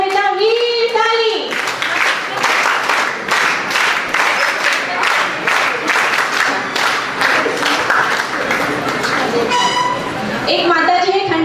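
Applause at a girls' camp for a girl called forward, a dense burst of many hands clapping for several seconds, with a voice speaking before and after.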